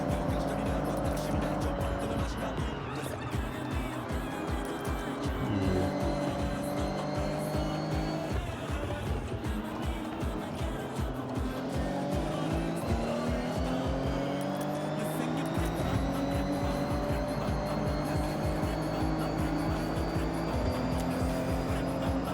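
All-wheel-drive race car in Forza, engine revving steadily with rising gear-change sweeps and some tire squeal, loud and continuous throughout with a voice talking briefly over it.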